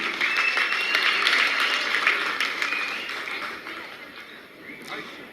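An audience applauding a team after a Tulunadu cultural stage performance, dense sustained clapping from a crowd that gradually thins toward the end.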